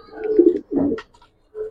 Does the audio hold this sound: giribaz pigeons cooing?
yes